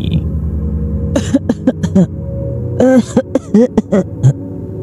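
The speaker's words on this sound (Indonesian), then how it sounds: "Lalu suara nenek-nenek batuk itu terdengar kembali." An elderly woman coughs in short bursts, two clusters of hacking coughs separated by a pause, fairly close over a low background hum.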